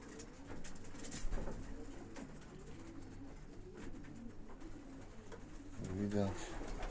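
Pigeons coo softly and continuously inside a loft holding breeding cocks and racing hens with young birds, a low murmuring chorus with faint rustling nearby.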